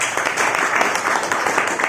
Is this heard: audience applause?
yes